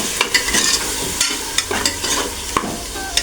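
Tomato onion paste stirred into a chicken biryani pot, a steady close sizzle of frying broken by the scrape and clatter of a spoon, with no talking.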